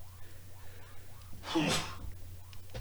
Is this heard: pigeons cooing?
no